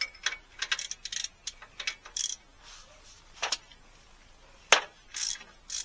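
Several quick bursts of ratchet-wrench clicking on a car, turning nuts while fitting Calvert Racing CalTracs to a Nova, come in short irregular spurts close by, with a sharper metallic clack near the end.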